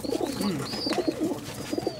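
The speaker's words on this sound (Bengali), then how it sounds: "একটা প্রতিবন্ধী কবুতর, এই বাচ্চাটা কিন্তু শামীম ফেলে দিছিল" Pigeons coo close by in soft, throaty, rolling calls that overlap one another, with a faint high whistle-like tone in the background.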